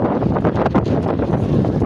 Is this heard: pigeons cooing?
no